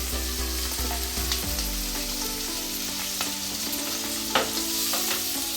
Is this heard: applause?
no